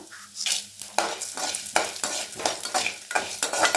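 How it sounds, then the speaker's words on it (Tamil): Urad dal and chana dal dry-roasting in a pan, stirred briskly. Dense, close scraping and rattling strokes come in a quick, uneven rhythm over a faint sizzle. "கோல்டன் கலர் வர்ற வரைக்கும் நல்லா வறுத்துக்கோங்க"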